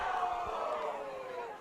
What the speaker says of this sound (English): Get some oohs and ahs from the crowd